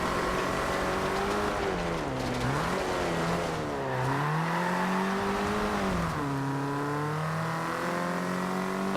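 Ferrari 500 Mondial four-cylinder racing car from Forza Horizon 2, its engine droning steadily and revving up and down through rising and falling pitch, loud and continuous with no talking.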